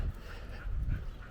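A puppy whimpers and pants close by in a short, breathy burst over a low rumble, with no one talking.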